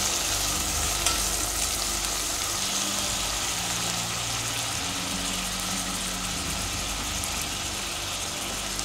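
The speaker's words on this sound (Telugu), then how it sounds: "అలాగే టమాటా, పచ్చిమిర్చి, పచ్చి బఠానీ కూడా వేసి వేయించుకోవాలి." Tomato, green chili and green peas fry in a pan with a continuous loud sizzle and crackle, heard close up and unbroken throughout.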